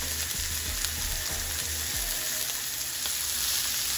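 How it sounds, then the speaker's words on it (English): Beef pot roast searing in a hot pan, a loud steady sizzle and crackle of frying meat with a few soft low knocks, continuous throughout with no talking. "you want to make sure you sear both sides and the sides as well"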